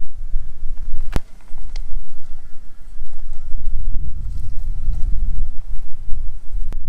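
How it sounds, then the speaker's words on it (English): Strong outdoor wind buffeting a microphone, a loud continuous low rumble that swells and dips, with a few sharp clicks scattered through and no speech. "It's windy out today, hopefully the audio is okay on this."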